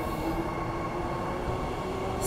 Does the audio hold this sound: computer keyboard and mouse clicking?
no